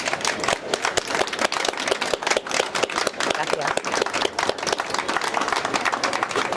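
A room of audience members at an Amnesty International talk applauds with dense, rapid clapping that holds steady throughout, and a voice speaks briefly over it.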